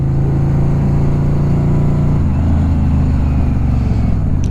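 A Yamaha Royal Star XVZ1300 motorcycle with a single-carb swap runs loud and close, a deep steady rumble that drops to a lower idle pitch partway through, heard alone.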